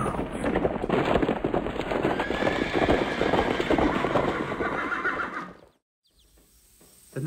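A black steed gallops past with a goblin rider, loud close hoofbeats and a neigh rushing by, then fading abruptly into near silence.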